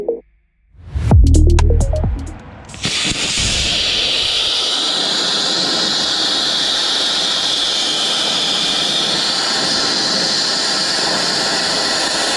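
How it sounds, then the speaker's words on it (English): A cutting torch gouging out welds on a skid steer forestry mulcher liner pops loudly as it lights, then settles into a steady, close, roaring hiss that holds at constant strength. "You're not cutting through, you're gouging, basically washing the weld out and some of the material"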